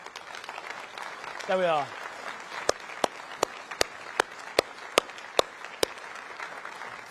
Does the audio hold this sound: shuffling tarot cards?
no